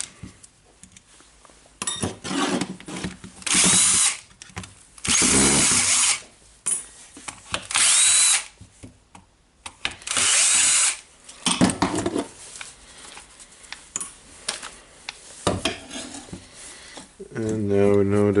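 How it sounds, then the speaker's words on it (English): A power screwdriver or drill unscrews screws from a Makita drill housing in repeated loud whirring bursts a few seconds apart, with a person talking between them. "Now I will unscrew the screws here."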